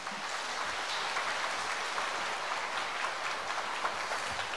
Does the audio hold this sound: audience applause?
yes